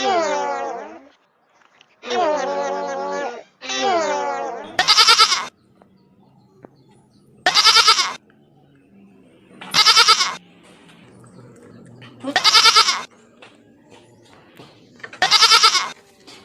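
Goats bleat while being fed outdoors beside an Ondel-ondel Betawi performance, with three wavering calls near the start followed by five loud, evenly spaced bursts over a quiet background.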